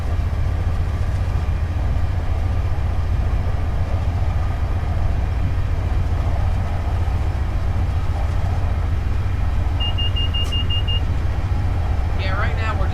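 Train running in Train Simulator 2022, a steady, dense rumble of wheels and engine throughout, with a short beep tone and faint clicks near the end.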